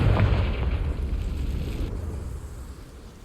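A Confringo spell blast in Hogwarts Legacy on PS5, fired at dry vines: one loud, deep, rumbling burst that swells at once and then trails off into a fading roar over about three seconds.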